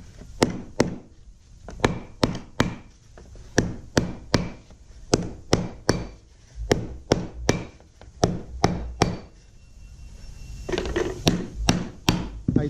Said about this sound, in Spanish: Le damos unos golpes y miren, quedó planito. A eso vamos a hacer con todos los rivets.